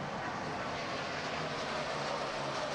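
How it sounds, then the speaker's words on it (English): A struggling NASCAR Sprint Cup stock car at the Auto Club 500 in California roars past, a loud, steady engine drone mixed with broadband track noise that fills the whole moment without a break. "You can hear the engine, as DW mentioned, every time it goes by."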